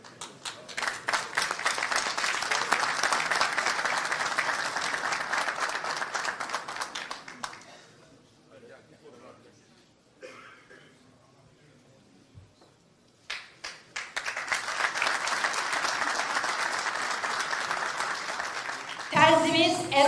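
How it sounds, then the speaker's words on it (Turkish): Audience applause fills a political meeting hall with dense, sustained clapping from a crowd, fades to near quiet in the middle, then swells again loudly before a voice comes in at the very end. "Terzimiz Erol Balığı bir kez daha alkışlar mıyız?"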